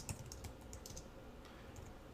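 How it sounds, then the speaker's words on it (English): Fast typing on a computer keyboard: quick, faint clusters of key clicks close by, in short bursts with brief gaps and a quiet background. "I can speed along my typing"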